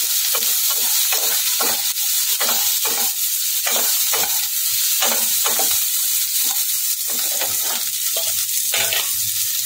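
Green chilies, tomato, chopped capsicum and onion stir-fried in a pan over a high gas flame: a loud, steady sizzle with repeated rhythmic scraping strokes of the spatula close by, no voices.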